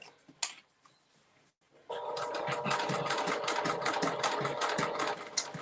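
A sewing machine starts up after a brief pause and stitches steadily at close range, a rapid mechanical whir.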